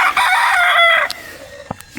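A rooster crows loudly and close for about a second, with hens clucking softly in a breeder's coop and a few sharp knocks after the crow fades.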